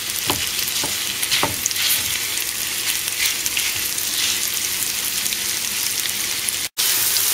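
Chipolata sausages and courgettes frying in a pan, a dense, constant crackling sizzle close up with occasional faint scrapes, cut off briefly near the end.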